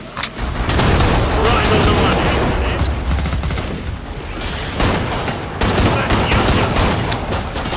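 Rapid bursts of video game gunfire crackle almost nonstop, loud and dense, with a few sharper shots standing out, while a player talks excitedly over the shooting.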